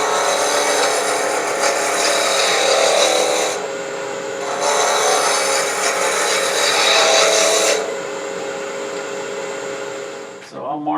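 A wood lathe turns an heirloom rolling pin at fairly high speed while a gouge rounds it off, a loud, close rasping cut that comes in two long passes over a steady motor hum, then the cut stops.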